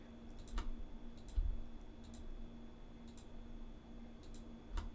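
Sparse mouse clicks from work in Photoshop on a grayscale architectural scene, small dry ticks spaced irregularly over a quiet room hum, with a few soft low thumps.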